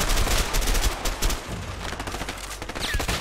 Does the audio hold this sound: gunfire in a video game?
yes